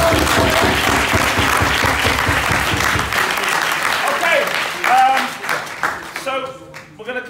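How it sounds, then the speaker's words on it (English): Audience applause at a mental health and suicide performance project, a loud burst of clapping for about three seconds that fades out as people start talking and laughing. "Just take another round of applause."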